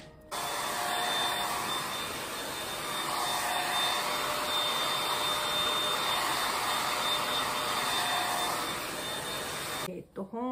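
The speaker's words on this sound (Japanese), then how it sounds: "ラップの上からドライヤーで 2-3 分だって。" A hair dryer blows close and loud over plastic wrap covering henna-dyed hair, a steady rushing airflow running unbroken for about ten seconds before cutting off.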